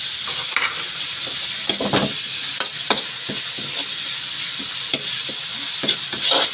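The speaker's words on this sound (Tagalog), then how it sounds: "Gisa-gisa po natin yung bagoong" Shrimp paste (bagoong) sautéed in a hot pan for pakbet, a constant loud sizzle broken by repeated scrapes and clinks of a spatula stirring, close and without talk.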